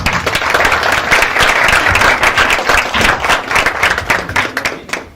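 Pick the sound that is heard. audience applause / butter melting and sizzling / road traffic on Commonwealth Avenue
audience applause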